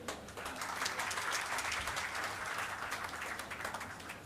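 An audience at an aerospace, defence and aviation opportunities event applauds a student startup team, with steady, dense clapping sustained throughout and no talk over it.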